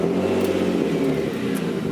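A car fitted with a Stillen supercharger cranks and fires, its mid-pitched engine turning over and revving unevenly, close and loud with no other sound over it.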